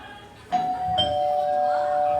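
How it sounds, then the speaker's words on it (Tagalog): A doorbell chimes twice, a clear electronic tone that rings on and lingers steadily, close and moderately loud. "may doorbell kami. Doorbell."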